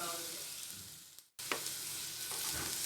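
French beans and carrots are sautéed in a pan over a slow flame with garlic in oil. The sizzle is steady and fairly quiet, with a short break midway and a few scraping stirs.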